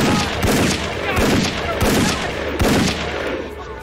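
Rapid bursts of gunfire crack out repeatedly over several seconds, loud and close, with shouting voices mixed in.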